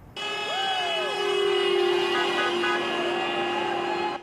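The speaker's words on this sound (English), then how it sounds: "These drivers are honking in support of President Trump." Car horns from passing drivers sound in a long sustained blare with a second horn overlapping, loud and close outdoors at a downtown street protest.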